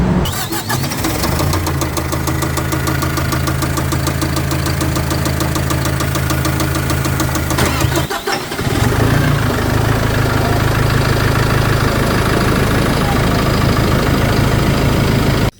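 A bulldozer's heavy diesel engine idles loudly and steadily at close range, with a continuous low rumble and knocking texture that briefly dips around the eighth second before settling back into a slightly rougher idle; no talk.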